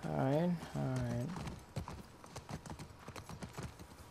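Horse hooves clip-clop in The Last of Us Part II as a steady run of close, crisp footfalls, following a long drawn-out neigh at the start.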